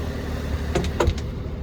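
A Honda Z PA1 kei car idles with the engine cover removed. The hum is steady and close, with a few short clicks and ticks over it.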